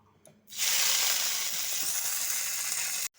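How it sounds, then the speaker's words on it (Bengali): Drumstick flowers hit hot mustard oil in a pan, setting off a loud, steady sizzle that starts abruptly about half a second in and keeps going until it cuts off near the end. "সজনে ফুলগুলোকে একটু তেলের মধ্যে ভাজা করে নেব হালকা করে।"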